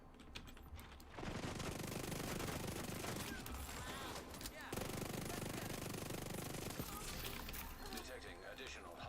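Sustained automatic gunfire from The Division 2, an online open-world shooter, erupts after a quiet second and rattles on densely and loudly for the rest of the stretch. It plays with no speech over it.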